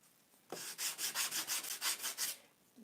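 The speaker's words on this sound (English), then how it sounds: "You might ask, why am I using the sanding block just after I glued it?" A sanding block is rubbed back and forth over freshly glued wood in about ten quick, even strokes. The rasping is close and steady, with no talking.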